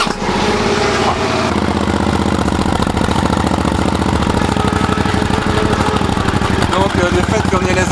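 A modified Suzuki SV 650 motorcycle engine with cams that make it unsteady when cold starts up and idles loudly and close, a dense rapid throbbing running throughout, while someone says a word over it.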